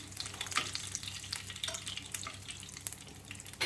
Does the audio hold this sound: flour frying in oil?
yes